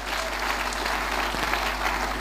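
A church congregation claps their hands for Jesus during a testimony session, dense sustained applause from a large crowd, even and continuous from start to finish with a low steady hum beneath.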